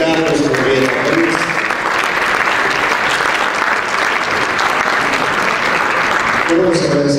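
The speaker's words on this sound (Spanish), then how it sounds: "le brindamos un caluroso y final aplauso al ingeniero Carlos Rodríguez Pérez" A conference audience gives sustained, dense applause that fills the hall from start to finish, loud and close, with a voice briefly heard over it near the beginning and end.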